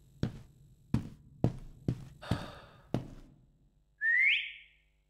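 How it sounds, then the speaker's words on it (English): A short rising whistle sounds in the horror video game Lazaret, following a run of six evenly spaced hollow knocks or thuds, all fairly close and with no speech. "Whistle?"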